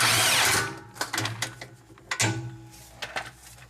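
An impact wrench runs a 14mm bolt in on a Fiat 500's rear suspension, a loud sustained whir at first, then a series of shorter stuttering bursts, close and alone.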